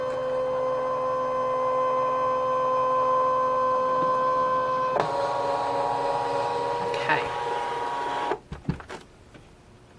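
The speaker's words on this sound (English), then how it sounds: "I'm going to hit start, and it's going to take this into the machine and start scanning." A craft cutting machine scans the mat with a steady motorized whine and mechanical hum, shifting pitch midway, then stopping with a few clicks and clunks; a brief spoken word.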